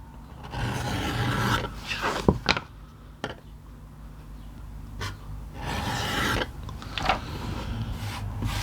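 Round edger tool beveling the edge of a piece of leather, repeated rasping, scraping strokes of a few seconds each with short sharp scrapes between, close and moderately loud over a low background rumble.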